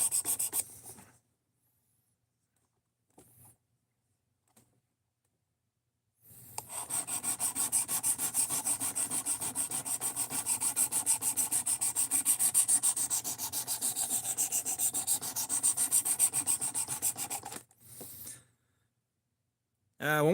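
Blade bevel being sharpened to a mirror finish, a long run of rapid rhythmic rasping strokes that go on for about eleven seconds, close and fairly loud, with short scrapes before and after and silent gaps between.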